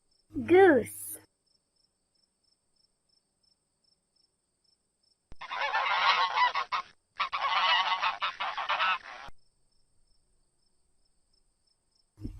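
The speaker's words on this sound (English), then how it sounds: "goose," A goose honks in a loud, harsh, rapid string of calls lasting about four seconds, broken by one short pause, close and unaccompanied.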